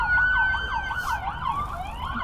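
Emergency sirens escorting a passing funeral procession, wailing up and down in repeated sweeps, loud and close with a steady traffic rumble underneath and no talking.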